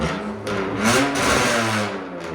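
A 2002 BMW Z3 with a 3.0-litre inline-six and true dual straight-pipe exhaust revs loudly and steadily nearby, its raw, throaty engine note swelling and holding through a couple of short throttle blips.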